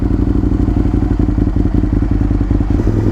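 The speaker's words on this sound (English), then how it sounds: "Alright, let's start this bad boy up." An Aprilia Tuono motorcycle engine idles loud and close, a steady throbbing, pulsing rumble with clattering mechanical texture that runs unbroken and alone.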